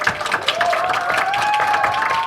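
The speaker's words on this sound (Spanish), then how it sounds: "Un fuerte aplauso a Sofía" Audience applause at a university undergraduate literature colloquium panel, steady and fairly loud clapping throughout, with a faint tonal voice-like line running under the dense claps.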